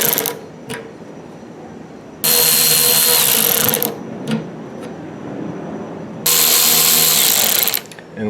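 Ratchet removing bolts from the gas filler neck of a 1968-1982 Corvette C3, with two long bursts of loud rapid buzzing ratchet clicks close by, separated by quieter handling noises and brief clicks.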